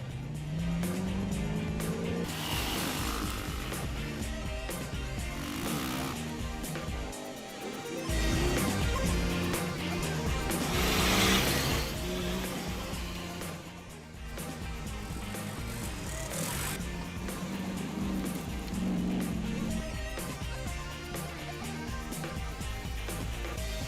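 Rally vehicles power through desert sand dunes in Morocco, engines revving and surging loudly, swelling and fading as they pass.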